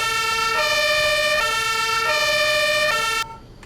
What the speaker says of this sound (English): There is your siren.